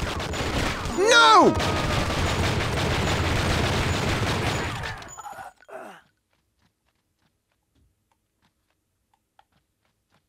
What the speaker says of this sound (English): Shoot the guns!